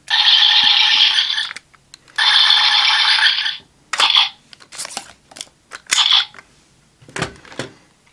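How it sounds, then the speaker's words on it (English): Electronic bat sound effect from a DarkVisor Zwei toy sword: two long buzzy, fluttering bursts followed by several shorter chirps and clicks, close and fairly loud, no talking. "activate the bat sound."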